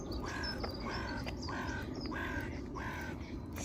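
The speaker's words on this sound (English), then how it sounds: "Look how many birds in the park." Crows caw repeatedly in a London park, about five harsh calls at a steady rhythm over constant background noise, with other birds faintly chirping.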